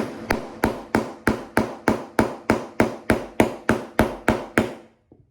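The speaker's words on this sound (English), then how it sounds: "Then you're just gonna take your hammer and knock it through." A hammer strikes a hole cutter set cutting side down to punch a half-inch grommet hole through material, giving fourteen sharp, evenly spaced knocks close up, each ringing briefly before the next.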